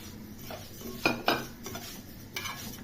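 Vermicelli is stirred in a pot while it browns for koshari, with several sharp scrapes and clinks of a utensil against the metal over a faint sizzle.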